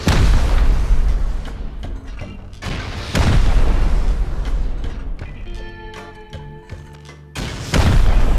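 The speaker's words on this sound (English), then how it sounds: "I think I can just rocket right here." Rocket blasts during a raid in the video game Rust: several loud, booming explosions spaced a few seconds apart, with quieter mechanical clatter and ringing tones between them.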